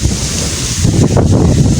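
Strong wind blows by a rough sea, a loud, steady roar of buffeting air with crashing surf underneath, swelling slightly toward the end.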